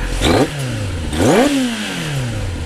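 A Kawasaki Zephyr 750 with FCR carburettors and a full Onishi titanium exhaust is revved twice at close range, each sharp rise in pitch falling back to a steady idle, with no talking.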